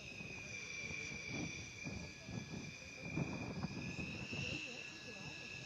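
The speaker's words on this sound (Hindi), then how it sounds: "जब भारत की राष्ट्रपति Draupadi Murmu Rafale fighter jet में उड़ान भर रही हैं" A Rafale fighter jet at Ambala Air Force Station gives off a steady, high engine whine throughout, quiet and distant, while a person talks over it.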